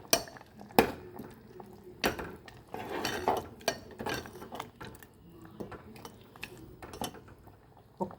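Ground spices and chili powder are stirred into an eggplant curry cooked with peanut milk in a pot, giving irregular metal clanks and scrapes of a spoon against the pot with quieter rubbing between them.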